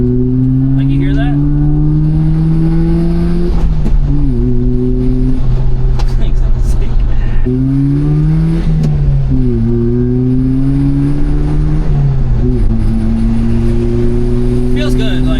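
A small supercharged Subaru Sambar engine drones steadily and close, its pitch rising through gears with a couple of drops at shifts, loud throughout.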